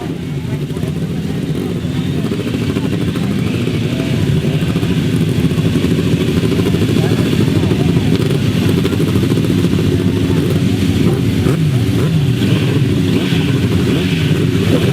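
Grasstrack racing motorcycles at the 2006 British Masters pull away together from the start, a loud, steady, dense engine roar holding throughout, with crowd or commentary noise faintly beneath.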